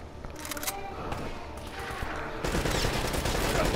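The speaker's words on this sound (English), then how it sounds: "At least it sounded like a turret." Turret gunfire in Uncharted: Drake's Fortune, a dense, sustained burst of rapid shots that keeps up throughout and grows louder and harsher in the final second or so, with no talk.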